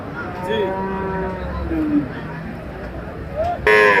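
Dairy cows of a foreign breed moo at a busy cattle market in Shahjadpur, Sirajganj. Drawn-out, fairly close lows rise over a constant murmur of crowd chatter, and another loud call breaks in at the very end.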